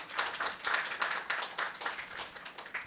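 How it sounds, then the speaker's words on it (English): An evening literary-event audience applauds the guest as she is welcomed, a fairly distant, rhythmic round of claps that runs steadily throughout. "Please give her a big round of applause."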